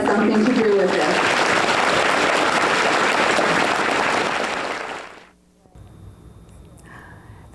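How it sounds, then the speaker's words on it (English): An audience at a Cupertino event claps for the children in a sustained wave of applause that fades out after about five seconds, leaving quiet room tone and a faint voice. "When I ask you to clap, let's clap for all the children out there"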